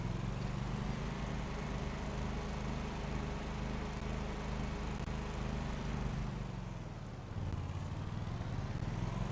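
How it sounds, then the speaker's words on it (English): A mower engine runs steadily close by in a low, droning hum, dipping briefly toward the end before picking back up, with no talk. "We are on with the mower."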